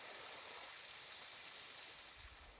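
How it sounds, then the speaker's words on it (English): A waterfall on a Pacific Crest Trail section roars as a steady, broad rush of falling water, close and constant throughout with no voices over it. "The waterfall."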